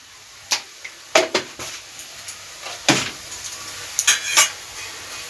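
Red cabbage with pepper and soy sauce gets stirred in a pan: a spoon scrapes and clinks against metal in scattered, uneven strokes over a faint background sizzle.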